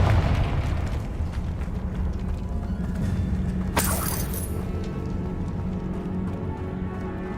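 Confringo blasting spell in a Hogwarts video game: a sudden bright crack bursts out midway over a steady rumbling game soundscape, followed by a brief crumbling shimmer as the blast fades back into the low drone.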